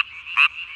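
A tree frog calls at night, close and loud: a sustained buzzing croak with a brief, stronger burst in the middle, alone without voices.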